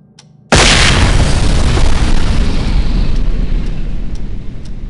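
A flashbang detonates in the tactical shooter SWAT 4, a sudden loud blast that snaps out of quiet into a sustained roaring, ringing wash that slowly fades over several seconds.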